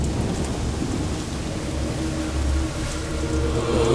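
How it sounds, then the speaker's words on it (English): Thunder rumbles heavily over steady rain in a violent lightning storm, a continuous deep roll that swells louder toward the end, with no voices. "The sky above is split by violent lightning, and the roar of thunder shakes the earth beneath his feet."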